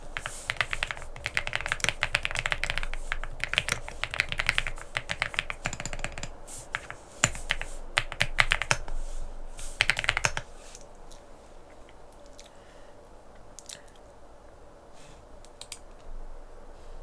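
Someone types quickly on a computer keyboard, entering a sudo openvpn command in a dense run of clicky keystrokes. The typing thins out to a few light taps and then stops over a quiet hum.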